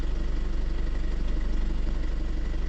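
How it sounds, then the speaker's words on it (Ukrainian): A Mercedes A160 car engine idling evenly, a steady low rumble with a regular fine clatter pulsing throughout, close and consistent with no speech. "Працює мотор рівно."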